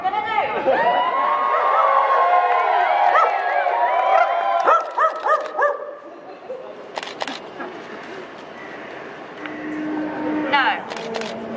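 A dog barks a few sharp times at an outdoor protest outside a party headquarters, amid a noisy crowd, loud overlapping voices and camera clicks.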